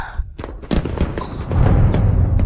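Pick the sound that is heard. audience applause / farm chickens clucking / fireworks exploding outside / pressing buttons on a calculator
fireworks exploding outside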